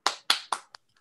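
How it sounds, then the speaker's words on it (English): Three sharp, close hand claps at an even pace, then a couple of faint taps, with no talking around them. "So please give Tojo a big round of applause."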